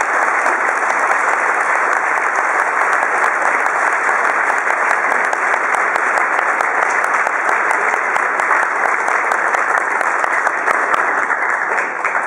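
Audience applause honours Jerry White's induction into the Tire Industry Hall of Fame: sustained, dense clapping from a large crowd in a hall, holding steady for about twelve seconds.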